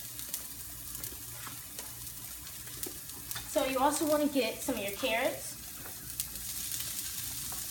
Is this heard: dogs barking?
no